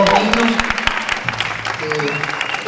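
An audience gives warm applause at a tribute event honouring a historian, with a burst of clapping, scattered loud claps and cheers, and voices talking through and over the ovation.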